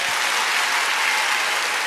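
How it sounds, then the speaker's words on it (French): A theatre audience at a mentalist's show applauds, with dense, steady clapping that fills the room at an even level from start to finish. "Applaudissez."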